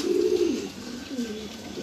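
Pigeons cooing at breakfast feeding time, soft throaty warbling calls that rise and fall close by, repeating in two phrases over a low background hiss.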